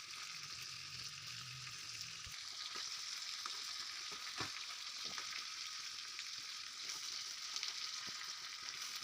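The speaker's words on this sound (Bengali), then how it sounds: "আর তেলের ওপরেই এটা সুন্দর করে এটা কষে নিতে হবে মাংসটা।" Spiced chicken sizzles steadily in hot oil for chicken dum biryani, a constant close frying hiss with occasional light clinks of stirring.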